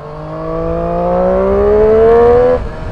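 A Triumph Street Triple 765R motorcycle's engine pulling hard under steady acceleration, a loud, close, rising whine-growl that climbs smoothly for over two seconds before the revs abruptly drop.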